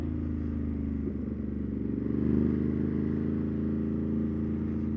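A 2022 Ducati Monster twin-cylinder motorcycle idles with a lumpy, throbbing beat close by, then its engine is blipped in a brief rev before settling back to the uneven idle, no voices.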